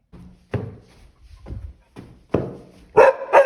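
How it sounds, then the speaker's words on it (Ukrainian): A three-year-old Akita gives several sharp barks spaced apart, closer and louder toward the end, with a few soft yips between. "коли собака починає гавкати на дітей"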